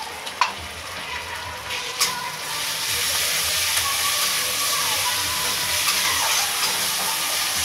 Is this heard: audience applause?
no